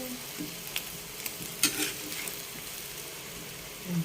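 Vegetables stir-fried with sardines in a pan give off a steady, soft sizzle. Occasional scraping stir strokes rise above it, with one sharper clatter near the middle.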